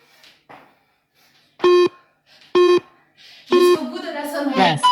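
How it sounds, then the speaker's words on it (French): At the end of a cardio exercise round, a workout timer sounds three loud electronic beeps, the last one longer and running under a voice. Quieter speech comes before the beeps. "Jusqu'au bout de la sonnerie."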